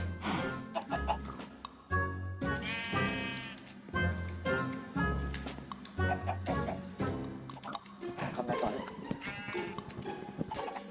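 Chickens clucking in Minecraft, a busy run of repeated clucks and squawks with other farm-animal bleats mixed in, loud and close, without speech.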